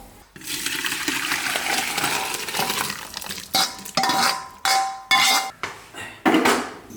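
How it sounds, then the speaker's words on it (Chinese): Beef seasoned with salt, soy sauce and pepper goes into a metal pressure cooker: a steady rushing wash of sound gives way to several loud, sharp pot clanks in quick bursts near the end. "放进高压锅。"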